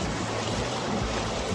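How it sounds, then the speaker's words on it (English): Small paddle wheels turning in an irrigation channel near Kununurra churn the water into a steady, broad rush and splash that holds level throughout, close by with no voices. "these little paddle wheels are obviously"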